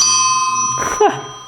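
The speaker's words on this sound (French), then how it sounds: "C'est la sonnette électronique Ding Dong." Electronic ding-dong bell on a VanMoof S3 electric bike, a sharp bright chime near the end over a steady tonal hum, with some talking in the background.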